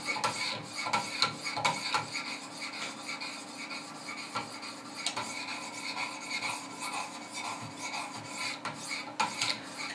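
A Benchmade 940 knife is drawn across Wicked Edge 600 grit stones in quick repeated rasping strokes, an even scratchy rhythm close by and fairly soft, with no talking.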